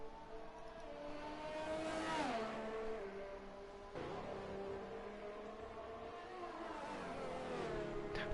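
A Sauber Formula 1 car's engine whines through the S-curves at the Canadian Grand Prix in an F1 racing game, pitch dropping under braking and climbing again as it accelerates, steady and moderately loud.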